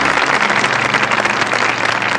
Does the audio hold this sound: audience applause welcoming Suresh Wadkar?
yes